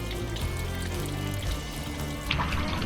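Running water gushes steadily from the end of an eight- to nine-metre hose at a campsite, a continuous close splashing flow with a brief louder surge near the end.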